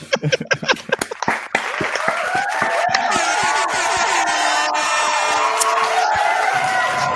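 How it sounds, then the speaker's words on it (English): Scattered claps build into a burst of applause with cheering and whoops from a small crowd, loud and close. "let's clap it up for him one time"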